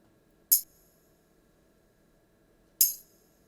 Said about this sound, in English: it is two tambourine sounds